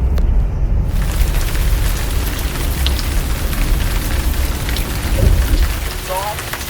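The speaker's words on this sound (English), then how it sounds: "It was raining and it was not very cold, not too sunny." Rain falls steadily near Melbourne, a dense continuous patter on surfaces with a low rumble underneath, close and fairly loud throughout.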